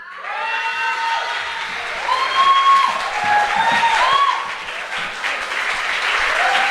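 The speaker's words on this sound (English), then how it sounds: "Give it a round of applause" Applause at the 9th Yarona FM Music Awards ceremony, steady and loud from the hall for several seconds, with a few voices calling out over it.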